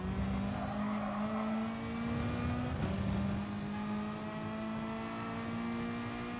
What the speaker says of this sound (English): Hard on the throttle up the hill again, and we're able to easily get by and into second place.